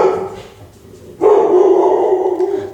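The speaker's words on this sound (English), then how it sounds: "some dogs outside barking too" Several dogs barking outdoors, a brief yip early on, then a louder burst of steady barking that carries on to the end.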